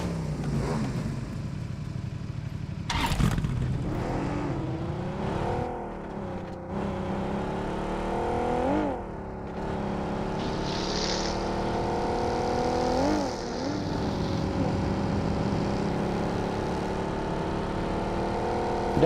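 Car engine driving in PUBG Mobile, a continuous loud motor drone that rises and falls in pitch with shifting revs over close to twenty seconds.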